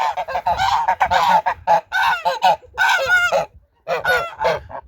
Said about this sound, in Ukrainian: І гусачок.